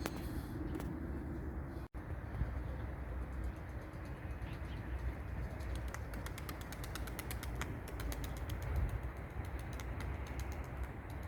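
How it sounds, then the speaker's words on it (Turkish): Flying tumbler pigeons outdoors, with bird cooing and calls heard faintly at a distance over a constant rumbling outdoor background and occasional light creaks and ticks. "yaklaşık bir 10 dakikadır uçuyor kuşlar işte Oynamaya başladı"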